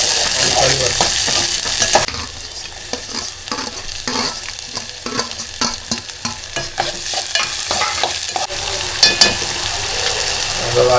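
Onion and curry leaves fry in hot oil with a steady loud sizzle, and sharp scrape-and-clack stirring strokes repeat throughout; there is no talking.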